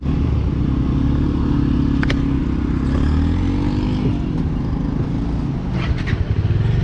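A motorcycle setting off on a ride toward Ladakh, its engine droning loud and close in a steady low rumble with a slight rise in pitch, plus a few light clatters.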